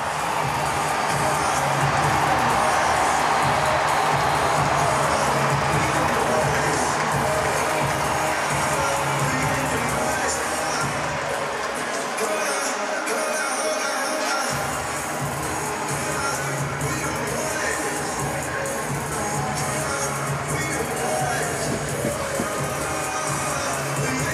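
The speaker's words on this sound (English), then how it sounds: "And the crowd is feeling it now. We'll listen to the crowd the rest of the way." A crowd roars and cheers throughout the closing moments of the 2019 MASL Ron Newman Cup indoor soccer championship between the Milwaukee Wave and Monterrey Flash, a dense, sustained arena din with whoops rising above it.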